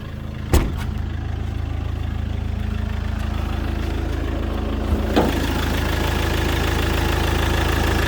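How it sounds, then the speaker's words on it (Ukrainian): A 2012 Iveco Turbodaily 35S14 diesel van engine idles in a low, constant rumble, close and loud, with a couple of brief clunks over it. "чисто працює, сухий двигун"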